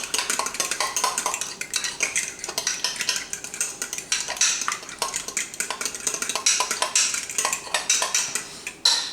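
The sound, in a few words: mixing seasoned egg ravioli filling in a bowl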